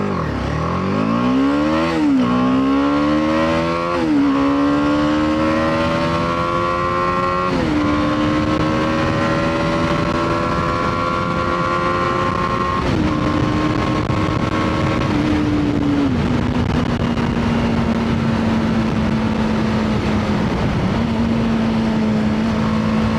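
A BMW G310R motorcycle with a 310cc single-cylinder engine launches hard from a stop, revving up through several gear changes, each shift dropping the pitch before it climbs again, loud and close throughout.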